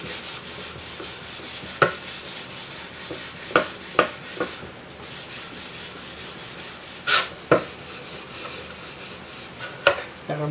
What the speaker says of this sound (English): let's get some steel wool and we're going to polish the cabinet